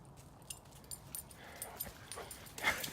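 Wrigley, a big dog out on a hike at Hidden Lake Forest Preserve, whimpers and whines in short, soft bursts close by, with light rustling and footsteps around him.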